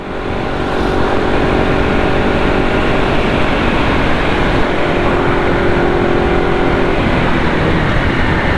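A pickup truck engine roaring hard on a downshift during a night drive through a mountain pass, a loud, continuous, close engine drone and roar that holds steady throughout with no talk.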